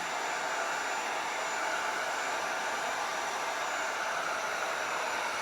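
A hair dryer blows steadily over a wooden board coated with chalk paste for wood burning, giving a constant close whooshing roar with no pauses.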